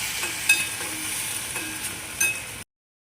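Ground spice paste for a vada pav filling is stirred into a hot pan with curry leaves, giving a soft steady sizzle with a few light scraping strokes, brief and close, then cut off abruptly.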